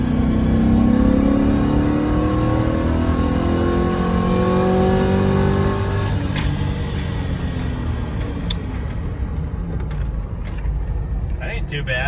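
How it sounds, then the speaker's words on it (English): A 6-liter GM V8 in a 1999–2006 Yukon/Tahoe-type truck converted from automatic to manual pulls hard in second gear, its engine note climbing steadily under load, loud and close, with an upshift partway through. "Do a second gear pull here, see if it rips all right."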